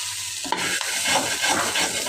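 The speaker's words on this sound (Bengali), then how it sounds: "আবার এই আলু ভাজি করছি" Potatoes being stir-fried in a pan at home: a continuous sizzling hiss with scraping stirring strokes, steady and close, with no talking.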